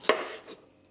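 A knife cuts food while cooking Surinamese daal bhaat and kalaudji outdoors on a chulha, a single crisp chop followed by a fainter second cut on a board.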